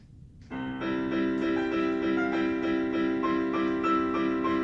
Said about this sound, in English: if you just give a MIDI file, the composed music to a computer, it's gonna sound like this.